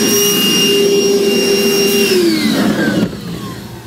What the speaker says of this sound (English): We're just going to use our vacuum.